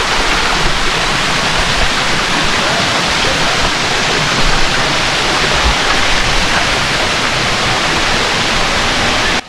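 Kaparkan Falls, a tiered cascade in Abra, roars loud and close as a dense, unbroken wash of falling water that holds steady throughout.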